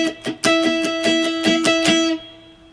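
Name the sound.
guitar chord strummed with muted strings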